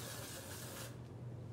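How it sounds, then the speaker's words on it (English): A texture spray hisses onto hair in one steady, close burst that cuts off just before the end, leaving a quieter room behind. "And with our texture spray,"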